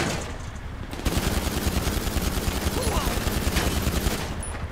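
Rapid automatic gunfire in the video game GTA 5 Online, aimed at a helicopter, a loud, sustained stream of closely spaced shots after a short pause, running almost continuously to the end.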